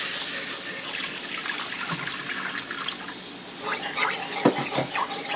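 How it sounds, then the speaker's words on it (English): Beef broth pouring into a pan of browned roux, a splashing watery rush that settles into trickling and sizzling, moderately loud and close. "I'm going to add in 4 cups of beef broth."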